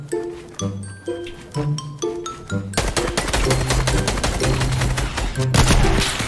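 Rapid gunfire from the Fortnite video game, first sparse shots between bright chiming game tones, then a dense, loud, continuous burst of automatic fire filling the rest of the clip.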